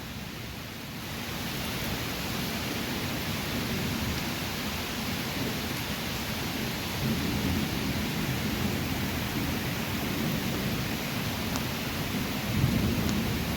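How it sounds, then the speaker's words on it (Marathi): A sudden heavy downpour, the season's first rain, pours down in a loud, steady roar with strong wind, a low rumble running beneath the constant hiss throughout. "सव्वा तीन वाजताच पाऊस चालू आहे भरपूर पाऊस पडतोय"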